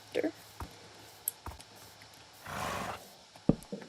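A horse in the Minecraft video game gives a few short neighs and whinnies, mixed with other scattered game noises and a brief burst of noise partway through.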